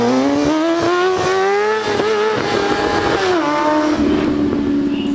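Motorcycle riding a wheelie down a street, its engine loud and close, revving in a rising, wavering whine that dips and climbs again as it holds the throttle, with no talking over it.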